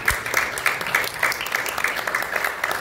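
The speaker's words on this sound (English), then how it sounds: "Congressman, give him a round of applause." A crowd at a Columbus Day celebration in midtown Manhattan applauds a congressman, with brisk, steady clapping from many people throughout.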